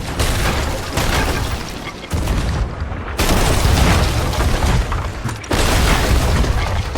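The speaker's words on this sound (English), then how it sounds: "Yeah, just right side cannon." Ship cannons fire in the pirate video game Sea of Thieves, loud booming blasts that come in a few separate bursts a second or two apart.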